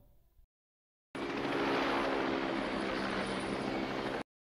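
A helicopter carrying soldiers flies past with a loud, steady rotor-and-engine roar that cuts in after a brief silence and holds for about three seconds, with no talk.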